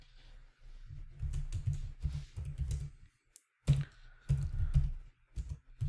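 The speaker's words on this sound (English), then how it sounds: "I'm going to type hello" Typing on a computer keyboard while setting up a cloud server startup script: bursts of close, quick key clicks in rhythmic runs, pausing briefly midway before resuming.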